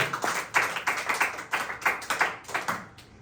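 A church congregation claps in unison, a string of sharp, separate hand claps in an uneven rhythm, fairly close and quite loud, with no voices over it.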